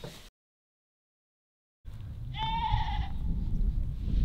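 A goat in heat lets out one wavering, nasal bleat after a brief silence, heard over low farmyard background rumble.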